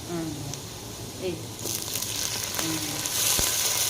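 Green chillies sizzling in hot oil over already-fried onions in a pan for a goat head meat curry, a steady crackling fry that swells louder partway through, with voices talking over it.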